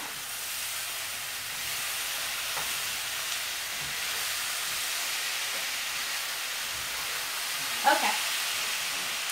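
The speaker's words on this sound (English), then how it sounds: "let me stir these potatoes a little bit" Potatoes in a hot pan give off a steady hiss and sizzle, with a faint spoon scrape and a brief clink near the end.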